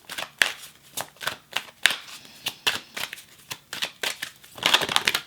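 Tarot cards are shuffled by hand in quick riffling, crisp bursts repeating steadily for several seconds, close and fairly quiet, with no talking.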